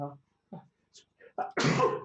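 A single loud, close sneeze bursts out at the end of a short stretch of broken speech and breathy sounds from people playing a tabletop role-playing game.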